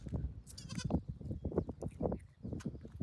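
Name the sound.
goat bleating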